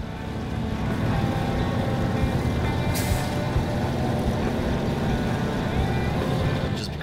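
Heavy truck engine held under throttle in SnowRunner, a steady loud drone grinding on throughout with a brief hiss partway through, no pause or change in pitch.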